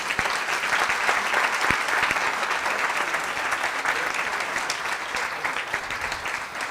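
Strong audience applause during an award presentation at a leadership event, a full, even roar of many hands clapping that continues without a break, easing slightly toward the end.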